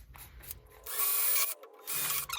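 A power drill bores pilot holes in wood with a pilot hole bit, a high whirring buzz that starts and stops in two short bursts about a second long, close and alone.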